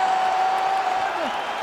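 In EA Sports UFC 5, a capacity arena crowd applauds and cheers steadily at the introduction of the heavyweight champion, a dense wash of clapping and noise under a tonal announcer-like voice.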